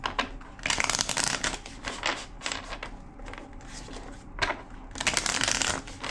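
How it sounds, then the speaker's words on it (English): Close, crisp riffling and slapping of a deck of tarot cards being shuffled repeatedly, in bursts with brief pauses, with no talking. "Two more shuffles."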